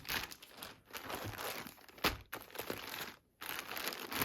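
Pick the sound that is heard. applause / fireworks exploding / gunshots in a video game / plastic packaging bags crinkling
plastic packaging bags crinkling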